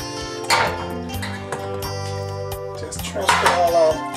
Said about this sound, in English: we're going to take this pan put it over here